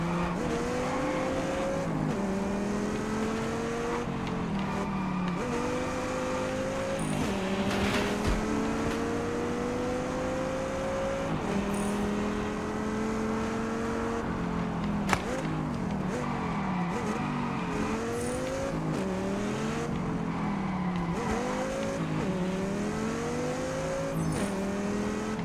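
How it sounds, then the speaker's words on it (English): Audi TT in the racing game Test Drive Unlimited Solar Crown accelerates hard, its engine note climbing repeatedly through gear changes, loud and continuous with faint tire noise. "Ooh, that's a quick start of that Audi TT."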